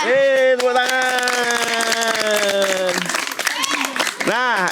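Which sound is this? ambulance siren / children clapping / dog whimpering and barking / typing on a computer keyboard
children clapping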